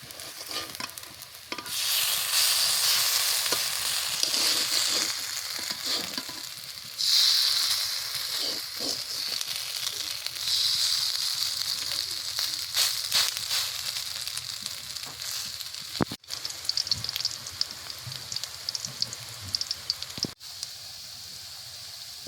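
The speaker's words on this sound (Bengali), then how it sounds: "এই যে এখন বড়াগুলো আমি ভালো করে ভেজে নিচ্ছি।" Banana flower fritters sizzle steadily in hot oil throughout, a dense continuous crackling hiss broken by occasional stirring clatters and sharp pops from the pan.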